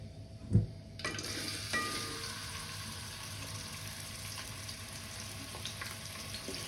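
Chopped onions for chicken gravy hit hot oil in a pan with a brief thud, then a steady, soft sizzle and hiss of frying continues throughout, with no talk.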